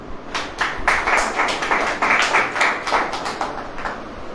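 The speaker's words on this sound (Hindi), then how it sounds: "ताली हो जाए।" An audience claps together in a steady, fairly quick rhythm at a church service, moderately loud and going on for several seconds with no talk over it.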